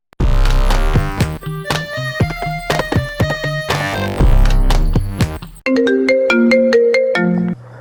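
A phone ringtone plays as a loud melodic tune with strong rhythmic notes, shifting partway through to a thinner, brighter repeated phrase in a film scene, heard alone without talk.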